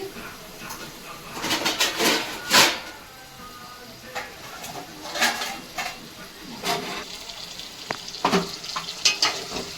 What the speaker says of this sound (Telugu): ఫ్రై చేసుకుని బాగా కలుపుకోవాలి దగ్గరికి ఫ్రై అవ్వాలి